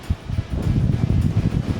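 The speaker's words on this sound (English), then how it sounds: "Oh, it's so windy." Wind blowing at the Anglesea beachside, a close, rumbling buffet of gusts against the microphone that rises and falls in quick pulses.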